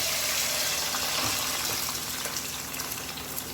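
Water pours into a cooking pan of mutton frying in hot oil, a steady close gushing splash that runs unbroken and eases slightly toward the end.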